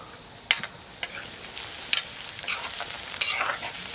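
Onions cooking in a covered pan while chicken fry is prepared, giving a steady soft sizzle with occasional sharp clicks and taps of a utensil, close and fairly quiet.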